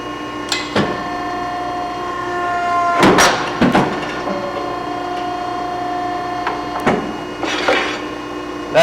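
A Scotchman metal shear working with a length gauge, giving a steady mechanical hum with repeated sharp clanks and clunks spaced a few seconds apart, close and loud in a workshop.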